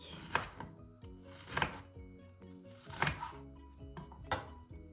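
A knife chops quince finely on a board in four distinct strokes, each a crisp close thunk, separated by short pauses.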